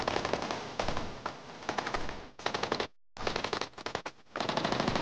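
Heavy machine gun fire rattles through a battle scene in long rapid bursts, dense and loud, broken by a brief silent gap before more overlapping volleys.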